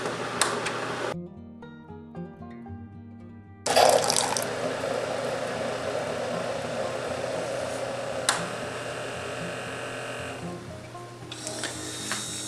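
A Keurig coffee maker brews a cup: a steady watery hiss and trickle runs for most of the stretch, broken by a short quieter pause with faint mechanical tones and a sharp click midway.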